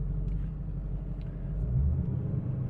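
A 2014 Ford Mustang GT's exhaust gives a steady, deep rumble heard from inside the cabin, swelling briefly toward the end. No voices are heard.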